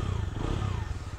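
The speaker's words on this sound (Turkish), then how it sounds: "Egzoz sesi hala harika ama." A Bajaj Dominar motorcycle idles with an unmodified exhaust, a close, steady, throbbing low rumble that pulses evenly throughout.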